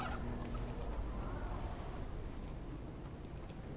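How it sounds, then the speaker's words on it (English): A chicken clucks inside the Fortnite video game, its calls set in a dense, steady wash of game noise that stays fairly even and continuous throughout. "Ah, yes. No. Chicken."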